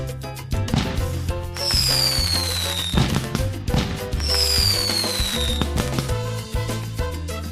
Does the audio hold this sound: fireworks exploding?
yes